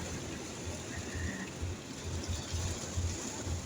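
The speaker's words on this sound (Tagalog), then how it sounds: "Ngayon, malakas na yung ulan." Heavy rain pours in a dense, steady hiss with low rumbling underneath, heard from inside a vehicle on an elevated expressway, moderately loud and continuous with no talk.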